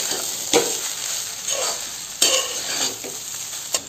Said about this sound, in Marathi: आता मी ते ढवळून घेते बघा